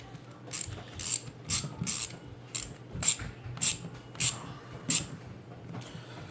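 Socket wrench ratcheting a nut snug during assembly of a TLR 8ight T 4.0 RC truggy: about nine quick bursts of close, fairly quiet ratchet clicks in an uneven rhythm, with nothing else audible.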